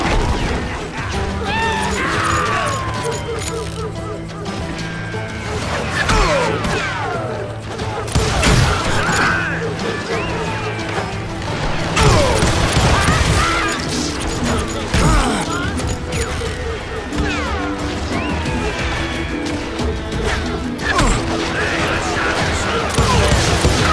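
Gunfire fills a Call of Juarez Gunslinger shootout, with dense, repeated shots, crashes and impacts over a loud continuous battle din, and voices call out during the fighting.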